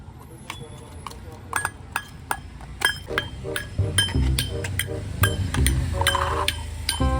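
Small toy pots and lids in a children's cooking game clink and clatter repeatedly in bright metallic taps, close by, while someone talks over them.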